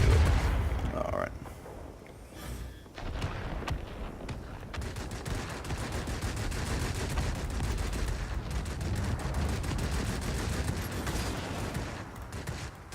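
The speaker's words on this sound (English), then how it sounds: "So the guns on it are very effective as a turning platform, really gets the job done" Spitfire XIV guns in World of Warplanes chatter in long sustained bursts, a dense rapid rattle of gunfire over engine roar and booming impacts, loud and continuous throughout.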